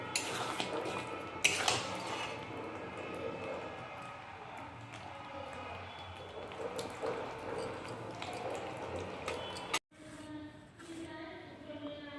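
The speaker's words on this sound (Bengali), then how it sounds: "একটা বাটির মধ্যে ঢেলে দিলাম" A cooked vegetarian paneer curry with homemade garam masala is scraped and poured from a pan into a bowl. Close, soft wet plopping and squishing comes with a few clinks of utensils against the dishes.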